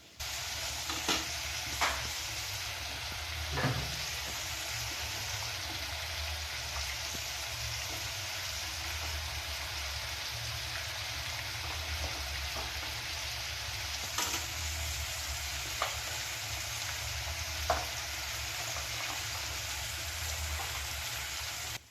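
Ginger paste and dried chili paste frying with spices in hot oil, making a dense, steady sizzle that holds evenly throughout, broken by a few soft clicks of stirring; no one speaks.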